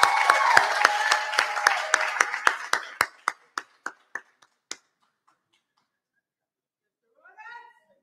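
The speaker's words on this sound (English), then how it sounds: "Let's have another warm round of applause" Audience applause for a contestant walking onstage at a student pageant, a burst of clapping that thins into scattered individual claps and then stops, followed by a short bit of faint speech.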